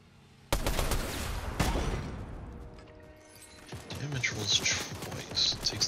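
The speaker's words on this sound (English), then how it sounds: "Who the hell is shooting at me?" Video game gunfire opens with a couple of sharp, loud shots, then gives way to scattered clattering impacts and quieter mechanical noises, with a voice speaking over the later part.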